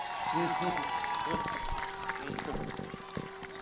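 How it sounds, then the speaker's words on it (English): A crowd claps and cheers after a Chilliwack Giants high school football game on a Friday night. The applause runs steadily beneath a public-address voice talking over it. "let's get a big cheer for one hell of a football game"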